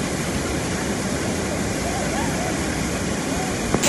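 A waterfall at Dudheko Raha near Puditar, Pokhara, with mountain streams pouring down beside it, makes a steady, close, full rushing roar that never lets up. Faint voices sit low beneath the water.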